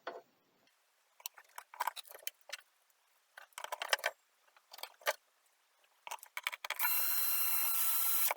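Screws being driven down into a Roland TR-55 drum machine during cleaning, a series of close, short ratcheting clicks and scrapes in irregular bursts, ending in a steady hiss.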